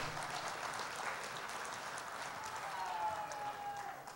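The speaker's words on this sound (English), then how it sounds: "please give yourselves a round of applause" Applause from a church congregation at a Sunday meeting, a steady wash of clapping at moderate level with some voices mixed in, continuing evenly throughout.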